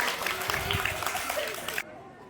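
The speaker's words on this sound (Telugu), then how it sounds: "అందరూ మరొకసారి చప్పట్లు." A children's audience at a school Sankranti celebration claps in a brief, dense burst of applause that cuts off abruptly after a couple of seconds, with some crowd noise mixed in.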